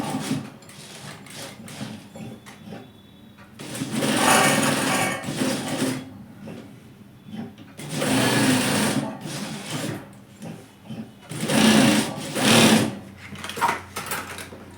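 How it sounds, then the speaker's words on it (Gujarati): A sewing machine stitching a pocket onto capri pants runs in several loud, close bursts of rapid mechanical whirring, separated by quieter pauses with faint handling sounds. "પછી હવે આપણે સિલાઈ મારી દઈએ."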